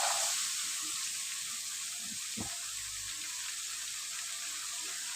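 Ginger garlic paste sizzling in a hot pan for a chicken curry, a steady broad hiss that stays even throughout, with a brief knock of a spoon midway and no talking.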